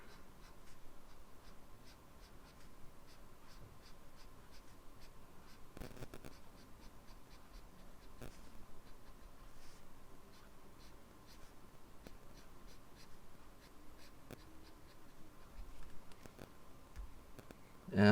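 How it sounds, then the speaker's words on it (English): Pencil drawing thin shading lines on paper for a dinosaur sketch, steady soft scratching and ticking strokes, close and continuous for the whole stretch, with no talk. "I'm just drawing these thin lines to kind of make it seem more like a shadow"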